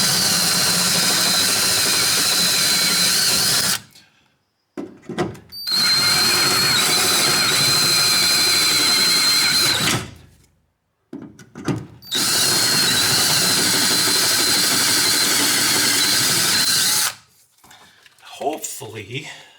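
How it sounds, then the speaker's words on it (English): A loud power drill whines in three long bursts with short pauses between, grinding into metal standoffs on a 1977 Camaro Z28 at close range. "drill these guys out a little bit"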